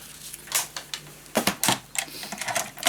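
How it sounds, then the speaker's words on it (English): Paper being cut into a one-inch strip for a crystal-themed mini scrapbook album, heard as a few short, crisp snips and rustles spaced irregularly, close and fairly quiet, with no talking. "So I'm gonna cut a 1-inch piece of this one."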